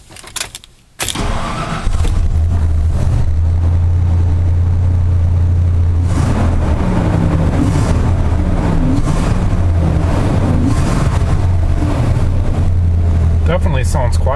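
A Ford F150 pickup with a freshly repaired exhaust manifold leak cranks briefly and starts up, then settles into a steady, even idle with a smooth low rumble that runs unbroken to the end.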